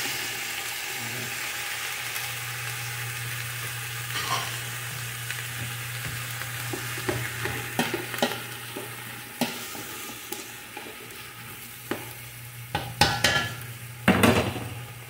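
Tomatoes sautéing in a pan, a steady low sizzle throughout with scattered scraping and clinks from a utensil stirring against the pan, growing busier toward the end.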